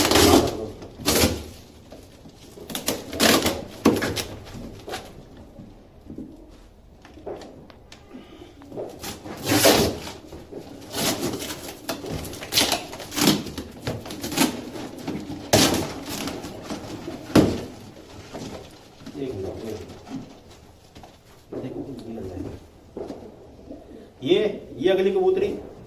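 Pigeons coo in a coop in bursts against handling clatter and knocks, with someone talking over much of it.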